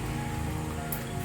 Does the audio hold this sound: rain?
yes